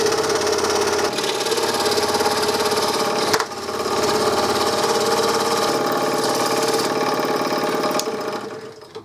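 A scroll saw cuts fretwork with a rapid, steady buzzing and reciprocating chatter, loud and close, briefly interrupted by a sharp knock near the middle and fading at the end, no talking.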